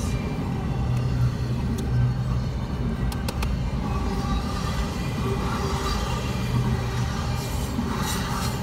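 Norfolk Southern freight train rolling past near Ranson, a steady loud rumble and rattle of wagons holding constant throughout with no break.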